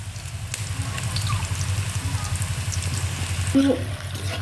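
Cardamom, cinnamon, bay leaf and split dried red chilies sizzling in hot oil in a pan, a steady crackling fry running throughout at moderate loudness with a brief stir near the end.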